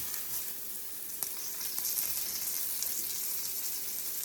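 Food sizzles and fries steadily in a pan on a home stove at breakfast, a constant hiss with a few faint clicks and scrapes as it is cut up in the pan, heard alone with no talk.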